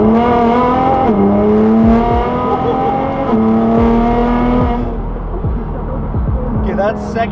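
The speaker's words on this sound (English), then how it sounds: "We'll do a second gear pull here real quick." A Nissan GTR fitted with a Speed by Design 700 kit pulls hard through second gear and shifts upward, the engine note climbing loud and close and stepping down at each gear change, with faint talk underneath.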